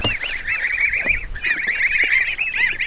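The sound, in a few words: duck quacking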